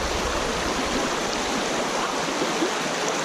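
Fast-running river water on an Ontario tributary, swollen after rain, rushing steadily as a dense, continuous broadband wash with no break, close and fairly loud, with no voices.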